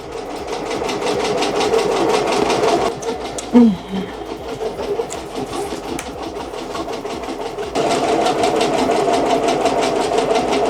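An embroidery machine stitches a tack-down placement stitch for an appliqué on a sweatshirt held in a magnetic hoop, a loud, close, rapid mechanical rattling that runs steadily with brief changes in pace.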